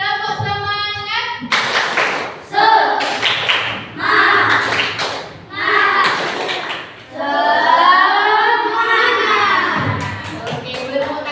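A group gives a rhythmic spirit clap, bursts of loud unison clapping in patterned beats alternating with shouted chanting from the crowd, close and energetic.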